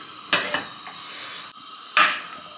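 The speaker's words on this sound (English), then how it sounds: "Gonna give this a bit of a stir around." Beef stew with broken-up OXO cubes being stirred in a pan, with two sharp utensil scrapes and clinks against the metal separated by a quieter stretch, close up and without talk.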